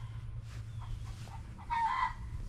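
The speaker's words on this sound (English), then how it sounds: "So the chickens will announce that they had laid an egg." A hen clucks after laying an egg, giving a few faint, separate calls and then a louder rising squawk near the end, heard against a low steady background hum outdoors.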